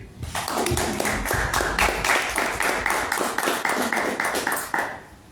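An audience at a bookstore book presentation claps for the author, rhythmic close-up clapping in a steady beat, loud and continuous before tapering off at the end.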